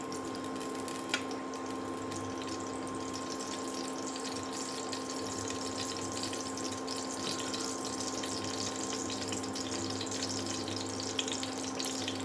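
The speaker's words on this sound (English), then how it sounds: "After I add the pumpkin, I add a bit of water in there, so to cook off the pumpkin." Water is added to pumpkin cooking in a pot, making a continuous close sizzle and bubbling hiss that stays steady throughout, with a low electrical hum underneath.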